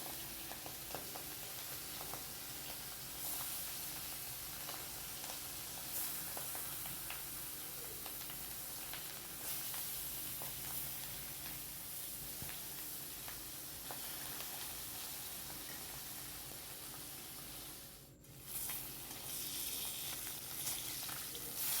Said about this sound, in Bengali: এবার মাছগুলো ভেজে নেব আগে।